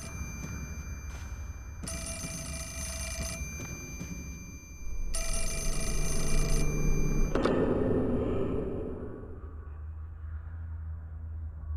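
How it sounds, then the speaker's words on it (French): A reception desk telephone rings in the survival horror game Fatal Frame 4 (Project Zero 4). Two long, loud electronic ring bursts sound over a low ambient rumble, and the tone then fades into quiet background. "C'est le téléphone de la réception."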